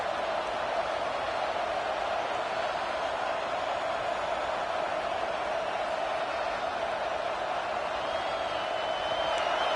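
A football stadium crowd roars steadily at full throat during a tense stretch of a game against Oregon, a dense, unbroken wall of noise that stays loud throughout.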